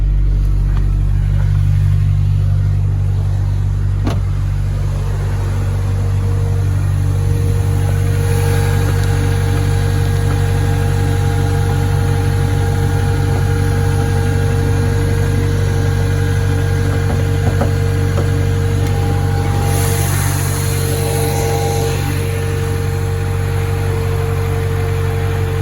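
An Acura/Honda engine idles steadily with a continuous high whine from a failing power steering pump over the low engine drone, which swells briefly a couple of times, with no talking.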